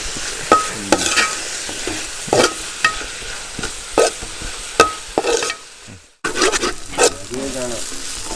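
Onions sautéing in a pan, a close sizzle punctuated by repeated sharp scrapes and knocks of a spoon, with a brief drop to near silence midway.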